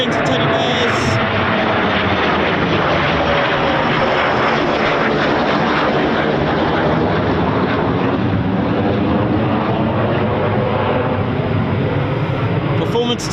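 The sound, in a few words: Eurofighter Typhoon FGR4 fighter jet performance takeoff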